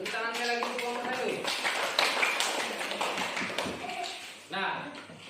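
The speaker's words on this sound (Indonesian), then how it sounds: "Tepuk tangannya lagi untuk kelompok 1." Students in a classroom give a group a round of applause, a sustained patter of many hands clapping with voices talking over it.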